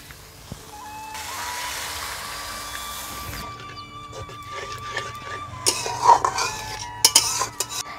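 Spice paste for paneer masala curry stir-fried in a pan, with a low steady sizzle and a few sharp clinks of a spoon against metal near the end.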